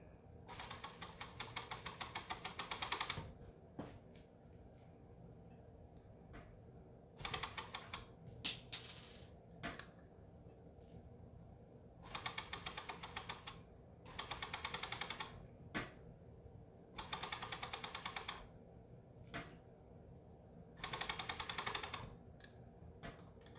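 A sewing machine stitching a Vogue 1929 top, running in several short bursts of fast rhythmic whirring, quiet and close, with brief silent gaps between them.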